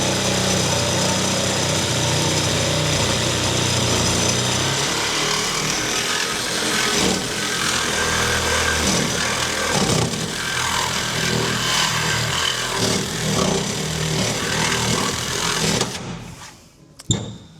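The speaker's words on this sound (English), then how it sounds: "I reckon let's cut the exhaust." Steady, loud power-tool cutting through the old exhaust of a Land Rover Series II during a teardown, a dense continuous grinding-saw roar held for about sixteen seconds before cutting out abruptly, followed by brief clatter.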